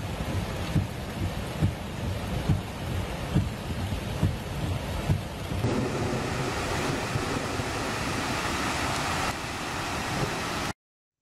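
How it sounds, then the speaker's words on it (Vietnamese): Hail pours down with thunder over Misurata at night, a dense, steady roar of hammering ice and rain with low rumbles and gusts throughout, loud and continuous, with no voices. "Playa đang gánh chịu một trận mưa đá như thác đổ xuống thành phố Misurata vào ban đêm ngày 9 tháng 10 năm 2021."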